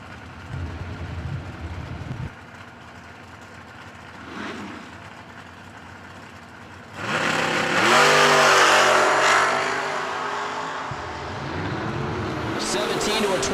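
A 1985 Ford Mustang drag race car roars at a drag strip, its engine surging loudly in a sustained, wavering rev midway, while an announcer talks over the sound before and after.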